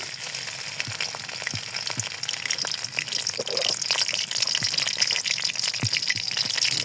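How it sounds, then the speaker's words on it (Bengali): Prawns fry in oil in a wok with a steady, close crackling sizzle. Scattered sharp pops punctuate the hiss throughout. "কড়াইতে তেল দিয়ে দিছি তেল দিয়ে দিয়ে চিংড়ি মাছ করেছি দিয়েছি"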